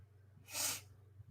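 A single short, breathy sneeze-like burst off to the side, faint and alone over a low steady hum.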